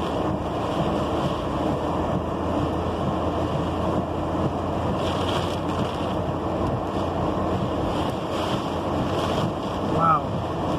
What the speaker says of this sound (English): The wind's going much faster than me.